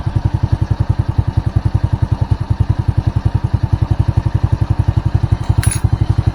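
A Honda Supra motorcycle engine idles near 1300 RPM, a bike that burns too much fuel, fouls its spark plug black and starts hard in the morning; steady, even close-up putter with a brief sharp click near the end, no talking.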